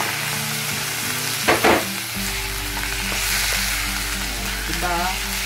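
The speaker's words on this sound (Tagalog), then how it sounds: "Kasi i-brown mo rin tong chicken eh." Chicken browning in a hot pan for arroz caldo, with a steady loud sizzle and a few clattering stirs partway through.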